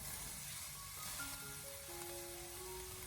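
Pork belly stir-fries in a wok over low heat, giving off a faint, steady sizzle throughout, with soft sustained musical tones running over it.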